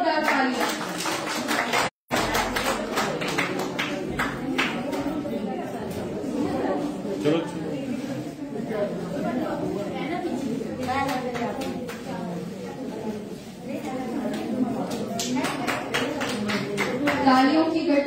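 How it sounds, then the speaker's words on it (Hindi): Audience applause at a stage event, a crowd clapping in a dense, continuous patter over a long stretch while a voice speaks over a sound system. "इन सब के लिए जोरदार तालियां।"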